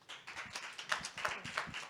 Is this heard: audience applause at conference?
yes